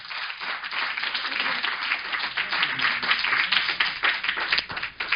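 An audience at a lecture on AI and future planning applauds in a dense, sustained wash of many hands, steady throughout without any talk on top.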